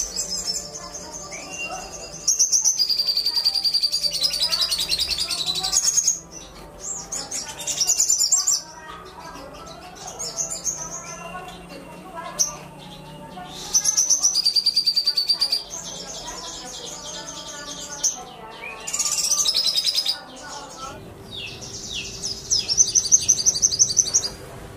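A Shogun songbird sings loudly and close up, in long bouts of dense, high trilling phrases separated by short pauses, with faint insect-like chirring underneath.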